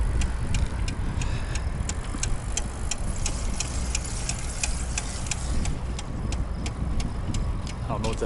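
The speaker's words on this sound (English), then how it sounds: "God, this bike makes so much damn noise." A bicycle ridden with something caught in the spokes, giving a steady fast ticking over continuous road and wind rumble.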